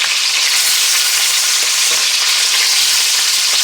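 Filet mignon steaks sear loudly in a hot pan, giving a dense, continuous sizzle and crackle for the whole stretch with no talking.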